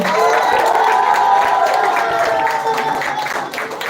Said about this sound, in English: Can we please give her a big round of applause again?